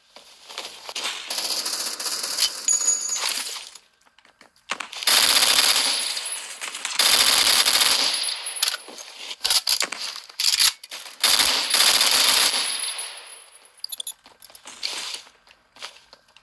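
Rapid automatic gunfire from the Roblox game Phantom Forces, played on console, rattles out in long loud bursts with brief pauses between volleys, and no talking is heard.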